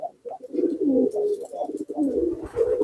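Racing pigeons coo continuously and close, several birds overlapping in low rolling calls with almost no pause.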